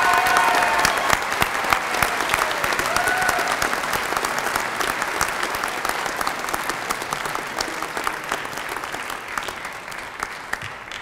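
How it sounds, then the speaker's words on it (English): At a Belfast degree ceremony, an audience gives graduates a long round of applause. The crisp clapping is dense and steady and fades slightly over about eleven seconds, with no talk over it. "Let's give them all another big round of applause."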